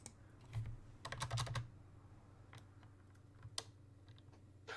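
Hard typing on a computer keyboard comes in quick, sharp clusters of clacks, with two heavier bursts near the start and scattered single key hits afterward, fairly close and clear.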